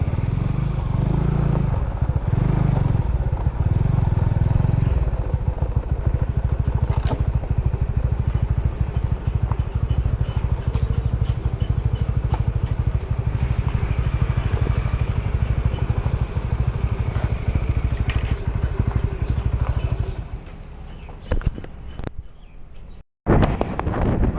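A motorcycle engine runs at a low idle and rumble while the bike is loaded into a van, with clattering and handling noise over it, then a brief cut near the end.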